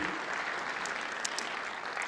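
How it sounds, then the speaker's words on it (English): Audience applause welcoming a Netflix security engineer to the stage at a container security talk: steady, dense clapping from a crowd, even and sustained throughout with no pauses. "Please give a round of applause."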